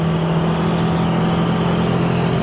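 A restored 1969 Porsche 911 E drives along a road, its engine giving a steady, continuous drone with a strong low hum and constant road noise that does not let up.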